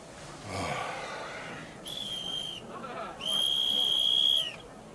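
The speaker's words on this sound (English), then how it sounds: "That sounds like a police whistle." A shrill whistle blows twice, a short blast then a longer one, cutting through a quiet room with faint breathing beforehand.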